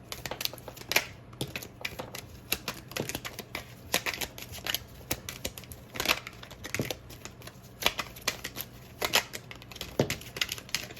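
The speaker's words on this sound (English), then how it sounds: "I'm gonna get a few more shuffles in." Tarot-style playing cards are shuffled repeatedly, with quick riffling bursts and soft slaps recurring in a steady rhythm at close range.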